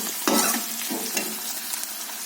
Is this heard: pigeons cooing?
no